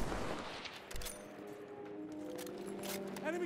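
Armor-piercing rounds fire in Battlefield 1, a loud burst of gunshots followed by a crackling run of shots amid game noise, with a voice talking over it.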